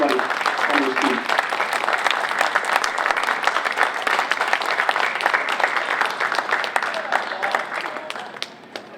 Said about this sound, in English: please stand up. Round of applause for everybody on this team.